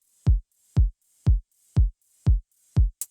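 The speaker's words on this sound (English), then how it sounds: "Just literally the stock 808 closed hi-hat from Ableton." Stock Ableton 808 closed hi-hat pumped by heavy sidechain compression from a kick, six evenly spaced swelling hits about half a second apart with a short clipped seventh at the end, isolated and fairly quiet.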